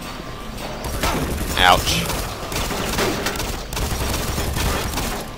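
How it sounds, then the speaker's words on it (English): Pistol fire in Doom 3, in a tense firefight: repeated sharp gunshots in quick bursts, loud and close over dark industrial game ambience, with a short spoken exclamation. "I better use some of this pistol ammo"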